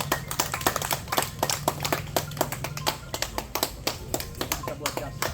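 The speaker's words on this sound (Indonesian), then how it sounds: "Kita semua tepuk tangan ya." An audience at a ceremony in Indonesia claps in steady, sharp bursts, a close and lively round of applause with some hands beating in rhythm, while a voice speaks over it.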